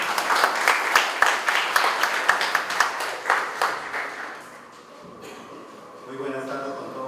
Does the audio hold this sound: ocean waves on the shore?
no